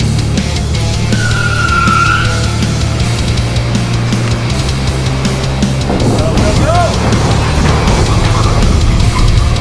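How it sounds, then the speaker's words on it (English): A Kia K5 sedan roars through its run at a roughly 35-foot ramp gap jump, engine droning loud and steady with broadband rumble and road noise, faint voices briefly audible under it. "he's about to do the jump in the K5 for the first time with this about 35-foot gap"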